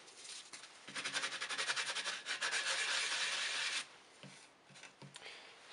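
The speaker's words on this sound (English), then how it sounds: "and just gonna sand it." Sanding a tricopter motor mount surface by hand, a faint, close rasping rub in quick back-and-forth strokes that builds to a steady scrape, then stops, leaving a few light taps.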